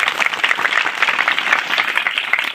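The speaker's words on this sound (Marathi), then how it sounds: "एकदा जोरदार टाळ्या वाजवा" A crowd breaks into loud, sustained applause at a public speaking event, many hands clapping in a dense, even patter that stays strong from start to finish.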